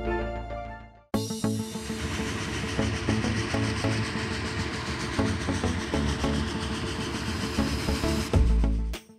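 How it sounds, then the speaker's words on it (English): A Spanish train bound for Valencia rumbles along the rails with a steady roar and faint rhythmic clacking, heard from inside a carriage, before cutting off abruptly near the end. "We boarded our first Spanish train."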